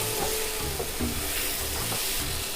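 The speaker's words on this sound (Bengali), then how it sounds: "আর 1 চামচ ঘি দিয়ে আমি ভালো করে একটু ভাজা ভাজা করে নেব" Chicken khichdi sizzles steadily in ghee in a pan, with repeated stirring strokes scraping through the fry at a regular pace, close and continuous.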